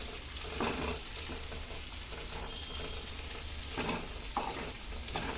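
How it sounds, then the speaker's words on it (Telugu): Onion pieces and green chillies fry in a pan for a chicken fry dish, giving a dense continuous sizzle with a few louder stirring scrapes, fairly faint and with no talking. "ఉల్లిపాయ ముక్కలు వేస్తున్నారా ఉల్లిపాయ ముక్కలు వేస్తున్నారా ఉల్లిపాయలు పచ్చిమిరపకాయలు బాగా కలుపుకోవాలి"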